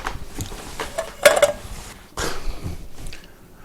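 A metal lid clanks onto a pot of simmering beer chili in a home kitchen, one sharp ringing clink followed by softer handling clatter against low background noise.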